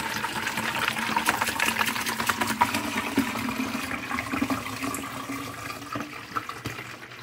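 Alkaline water poured from a bottle into a container holding shungite stones, a steady close splashing trickle that goes on for several seconds and slowly fades near the end.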